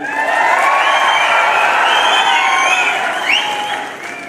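A crowd applauding and cheering at a political rally: dense, loud clapping with shouts and whoops, sustained throughout and easing slightly at the end.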